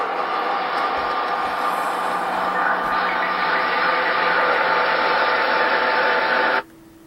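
A sampled radio stream pushed through high feedback and heavy reverb becomes a dense, loud, sustained drone with a steady tonal hum, holding evenly for several seconds before it cuts off abruptly.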